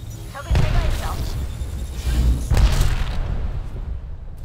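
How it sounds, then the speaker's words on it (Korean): Gunfire aimed at the player in Apex Legends arrives as several heavy booming bursts spread over a few seconds, loud and close, with a steady rumble of combat underneath. "멍청이들이 날 쏘고 있잖아"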